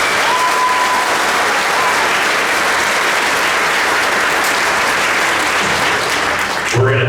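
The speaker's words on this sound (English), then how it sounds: "So give them one more big round of applause." Sustained loud applause from an audience at a spring band concert with senior graduation, steady clapping throughout that fades near the end.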